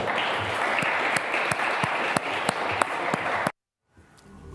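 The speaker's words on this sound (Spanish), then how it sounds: "Deberían aplaudir en este momento" An audience breaks into loud, dense applause with distinct sharp claps, then it cuts off abruptly into silence before faint clapping returns.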